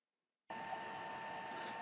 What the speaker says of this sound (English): I used hair dryer to change thermostat reading